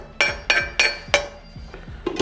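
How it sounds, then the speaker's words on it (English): Cheese cubes go into gougère choux dough in a mixing bowl, making about five sharp, bright clinks against the bowl at a steady pace, close up and with no talking. "Right, we add our cubes in the dough."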